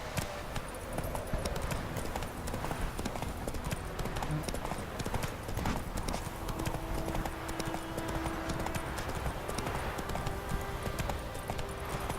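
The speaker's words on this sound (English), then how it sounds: "Whoa there, Roach." Horse hooves clip-clop steadily in The Witcher 3: The Wild Hunt, a continuous rhythmic trot heard fairly close under a busy game ambience.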